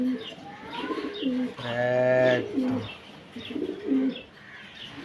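Pigeons coo nearby in repeated throaty, rolling phrases, one long call swelling in the middle, with a voice briefly speaking.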